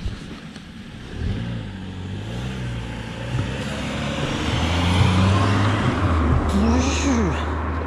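A car approaches and drives past on a dark road during a night bike ride, its engine rumble swelling gradually to a near, loud pass, with voices talking over it.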